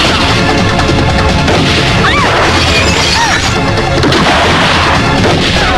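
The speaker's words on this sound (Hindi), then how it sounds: "यहाँ चारों तरफ गोलियां चल रही हैं" Action film fight scene in a village, with dense gunfire, shattering and crashing impacts piling up loudly and continuously, booms overlapping in a chaotic barrage with no pause.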